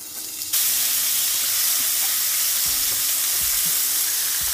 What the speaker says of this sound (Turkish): Şunları da hemen kızartalım.